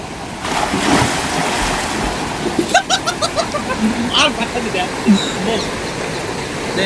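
Fast-flowing water rushes in a steady broadband roar with wind buffeting the microphone, while people talk nearby over it.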